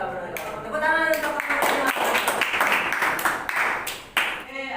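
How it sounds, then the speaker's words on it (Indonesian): Children in a classroom clap their hands together after a presentation, a burst of brisk, uneven claps that swells, thins and ends, with a voice before it starts. "Tepuk tangan untuk"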